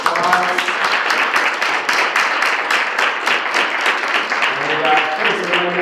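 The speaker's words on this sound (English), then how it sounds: "I would like you to join me in giving them a warm round of applause" A room of students and guests applauds the judges after a law-school panel on judicial activism, with dense clapping held steady throughout and a few voices chatting lightly underneath.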